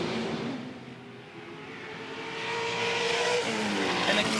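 Touring Car Masters race cars scream down the back straight at Sandown, a dense, sustained engine roar that swells louder as they approach, with no talking over it.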